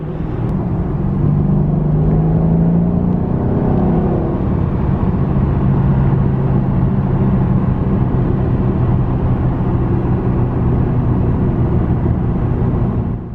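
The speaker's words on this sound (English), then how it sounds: "we got a few pulls, we did a few revs" A Mercedes CLS 550 fitted with a Magnaflow X-pipe exhaust revs close up, a deep, loud rumble holding steady and swelling in a few pulls with no talk over it.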